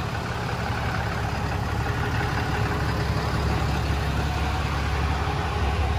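The diesel engine of a 2012 RAM 5500 HD truck idles steadily, a constant low rumble holding at an even level without any change in pace.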